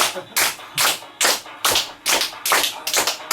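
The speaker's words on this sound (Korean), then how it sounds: "시력강화 손끝 박수입니다" A lecture audience performs a fingertip clapping exercise together, producing crisp, light claps in unison at a steady, even beat of about two to three per second, with soft shuffling between them.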